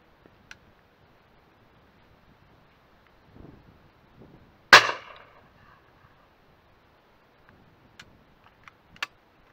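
A single sharp shotgun blast rings out in open countryside during pigeon decoying in September, followed by a fading tail, with a few faint clicks and thumps before and after.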